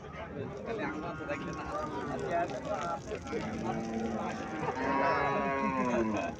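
Cattle, including a three-month-old Sahiwal bull calf, moo in long, drawn-out calls close by at a cattle fair in Cumilla, with people talking over and around them.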